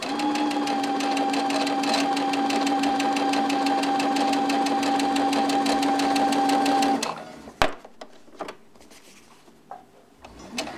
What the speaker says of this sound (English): the great thing about modern machines like this one is that you can sew at a speed that's comfortable